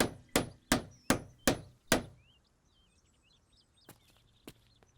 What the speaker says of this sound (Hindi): इतना शोर क्यों मचा रहा था? यह हथौड़ा किस लिए?